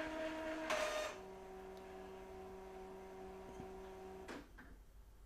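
An Epson L3110 printer runs its head cleaning cycle, giving off a steady mechanical hum with sustained motor tones, a couple of clunks and a brief whir near the end.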